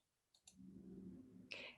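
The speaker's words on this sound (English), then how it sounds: "I'm always right mouse clicking" A couple of quick, crisp computer mouse clicks, right-button presses made while working through an online outreach job search, followed by a steady low hum and a brighter burst near the end.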